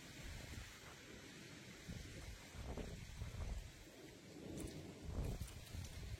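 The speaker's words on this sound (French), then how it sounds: "Il y a un vent absolument aberrant aussi." Strong gusting wind roars steadily outdoors ahead of an advancing thunderstorm arcus cloud, a broad rushing wash with louder buffets near the end and no voices.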